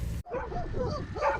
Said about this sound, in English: A common thing this side of the world are the wild dogs.